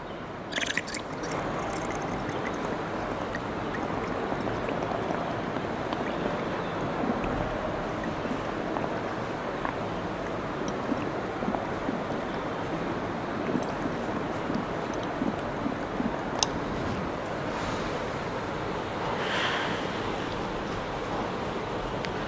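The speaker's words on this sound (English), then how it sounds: "blow out the air from your mouth into the lime water and observe the chemical reaction" Air blown through a straw into a container of lime water makes a steady, continuous bubbling gurgle, close and even, with no voices over it.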